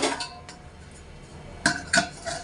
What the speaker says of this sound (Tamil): மூடி போட்டு வேக வச்சிடலாம்.